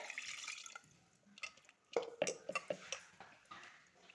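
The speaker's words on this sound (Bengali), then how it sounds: "বেশি জল দেব না সামান্য জল দিয়ে" A little water splashes and drips onto chicken in a pot, quiet irregular splashes and drops with light clinks from the cookware.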